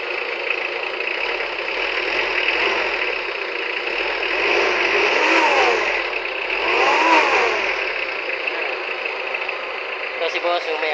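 A Mitsubishi L300 van's 4D56 diesel engine runs steadily close by after starting, with two swells in revs over a continuous idle, under some talk in the background.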